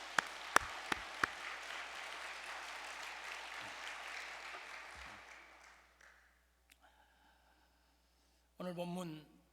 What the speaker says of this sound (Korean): 축복의 박수를 보내십시다.